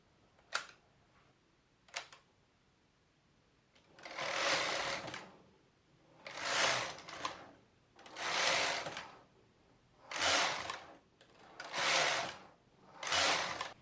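A knitting machine carriage makes six or so loud whooshing passes back and forth as rows of a bulky slipper sock are knitted, each sweep rising and falling in a steady rhythm after two short clicks.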